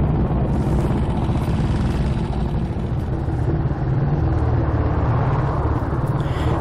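A red BSA C15 motorcycle engine rumbles steadily and loudly, a continuous throaty drone held close with slight fluctuations in pitch, alone without talk.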